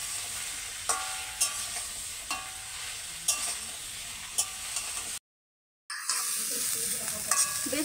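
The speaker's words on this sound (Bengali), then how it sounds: "কিছুক্ষণ নাড়াচাড়া করে একটু ভেজে নেব।" Jackfruit pieces being stirred and fried in a pan for an Echor Chingri dish, a steady sizzle broken by sharp spatula scrapes roughly every second, a brief silent gap near the end, then the frying resumes loudly.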